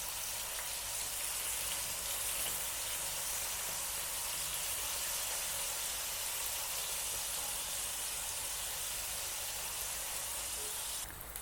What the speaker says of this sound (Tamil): வாழைக்காய் எண்ணெயில் ஃப்ரை ஆகிடுச்சு.